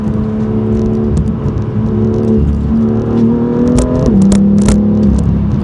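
A 2018 BMW M2 with M Performance parts accelerating on a city road, heard from inside as a steady engine drone whose pitch climbs gradually with a couple of gear-change dips, loud and close with no talking.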